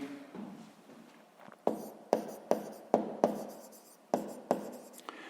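A pen writes math working into a notebook in short, scratchy strokes, faint at first and then a crisp run of close, separate marks with small pauses between them.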